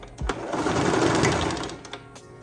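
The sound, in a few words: sewing machine doing front and back stitches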